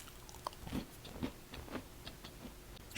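A crunchy matcha chocolate chip cookie is bitten and chewed, giving a few soft, irregular crisp crunches close to the mic in a quiet room.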